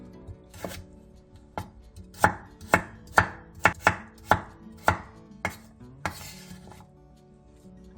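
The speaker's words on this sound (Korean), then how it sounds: "양파 2분의 1개, 감자 1개, 당근 2분의 1개도 단호박과 비슷한 한 입 크기로 먹기 좋게 잘라주세요." Half an onion, a potato and half a carrot are cut into bite-sized pieces with a knife, about a dozen sharp, evenly paced chops that grow more regular after a few sparse cuts.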